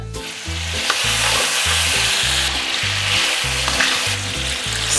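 Spaghetti tossed into a pan with crisp fried guanciale for carbonara sizzles loudly and continuously up close, with a rhythmic low rumble of the pan being shaken and stirred.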